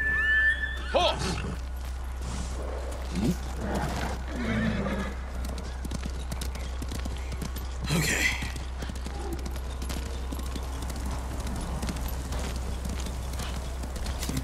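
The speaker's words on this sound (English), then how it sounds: "Is that a horse? That's a horse." Horse neighing and clopping hooves in an open-world samurai action game set on Tsushima, a loud whinny near the start and again around eight seconds over steady game ambience, with a brief spoken word.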